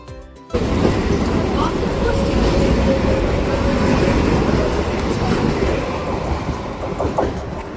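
A passenger train running steadily along its rails, a continuous loud rumble with rhythmic wheel clatter, starting abruptly after a brief quieter moment and staying close throughout.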